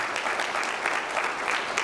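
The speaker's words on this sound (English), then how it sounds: "Give a round of applause to everybody." A crowd at a city's State of the City address breaks into brisk, dense applause, a close and steady wash of many hands clapping.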